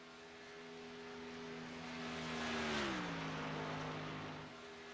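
A stock car engine drones steadily on a qualifying lap at Talladega superspeedway in a racing video game, a single sustained note that swells, dips slightly in pitch midway, then eases back.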